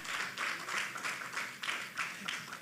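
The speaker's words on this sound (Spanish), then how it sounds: "Denle un aplauso fuerte al Señor." A church congregation claps along in a steady rhythmic beat, about two claps per second, faint and somewhat distant throughout the short stretch.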